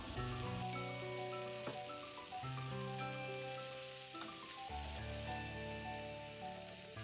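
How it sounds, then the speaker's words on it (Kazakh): Chopped chicken sizzles steadily in hot olive oil in a pan, a loud, continuous crackling fry with no voices. "майық әбден қызған соң туралған тауық еттерін біртіндеп салып қуырамыз."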